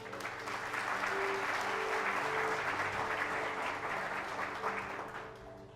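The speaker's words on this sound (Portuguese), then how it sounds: "Você pode aplaudir ao Senhor por isso?" A church congregation applauds during a sermon, a dense sustained roar of clapping that swells quickly, holds steady, then fades toward the end, with a low hum of sound system or voices beneath.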